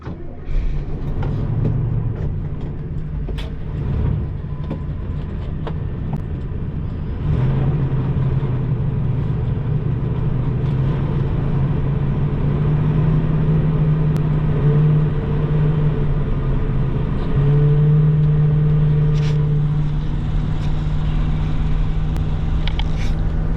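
A car pulls out onto the road beside a junk yard in Georgia, its engine giving a close, steady rumble that holds for the whole stretch, rising slightly toward the end.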